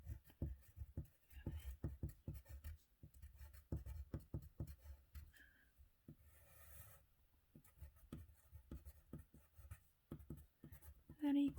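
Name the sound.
writing out a chemistry equation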